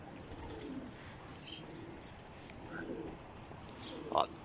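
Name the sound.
domestic pigeons cooing at a loft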